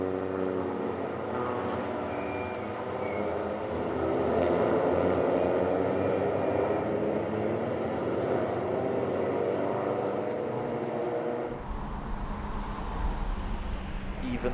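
Suzuki Swift race cars racing uphill at the Hungaroring circuit, a continuous roar of several engines building and fading, heard from a distance under a commentator's voice.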